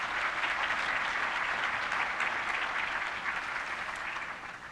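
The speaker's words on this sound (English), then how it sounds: "so give them a round of applause" Audience applause for the sponsors at a live local dance competition event, a steady dense clapping from a large crowd filling the room, loud and sustained throughout, easing slightly toward the end with no talk over it.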